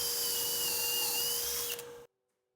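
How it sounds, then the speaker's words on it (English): A power drill bores pocket holes through a Kreg 720 Pro jig with the bit set to 1/2 inch. It gives a steady, close, high whine for about two seconds, then cuts off abruptly into silence. "I'm going to be putting my pocket holes in using Craig's 720 Pro with my drill bit set to 1/2 inch"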